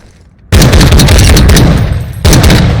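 Rapid video game gunfire fired with a Mayflash MClip adapter in controller turbo mode, a dense burst of shots starting abruptly, pausing briefly, then resuming loud and close with no talking.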